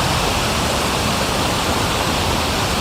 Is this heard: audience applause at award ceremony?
no